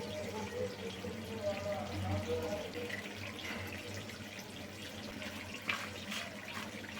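Washed onions in a kitchen bowl have their water poured off, producing a continuous running, splashing flow with a few drips near the end, close by.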